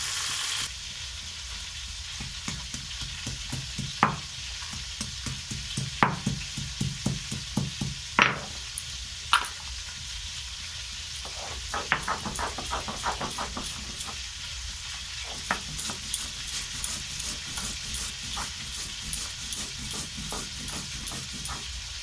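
Fish frying in oil in a pan, with a steady dense sizzle running throughout and scattered louder crackles and pops from the hot oil, no talking.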